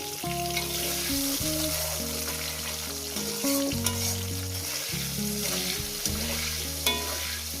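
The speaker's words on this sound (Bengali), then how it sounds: "ভেজে নেবো।" Katla fish belly pieces fry in hot oil with a steady, loud sizzle and crackle, stirred now and then, over soft music, with no talk.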